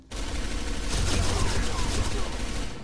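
Rapid bursts of gunfire from the video game Arctic Combat crackle in a dense fusillade, loud and continuous for a couple of seconds after a brief quiet start.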